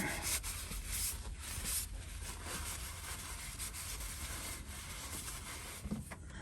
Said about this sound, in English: So I'm just wiping up this deal here. Wiping off the hoses here.